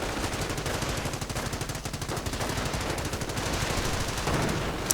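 .30 caliber machine gun fire in a World War II strategy video game: rapid, continuous bursts of rattling automatic shots layered with other distant gunfire, dense and steady throughout with no talk.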